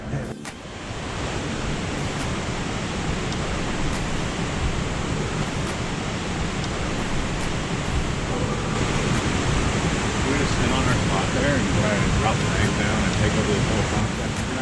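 A river flows in a steady, dense rush of water close by, a broad continuous roar that holds constant throughout, with brief handling noise at the start and a person talking faintly.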